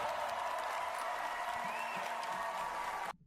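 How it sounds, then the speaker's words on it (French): An audience in the Oscars ceremony hall applauds in a faint, steady patter of distant clapping that holds for about three seconds before cutting off abruptly. "alors évidemment les gens applaudissent dans la salle"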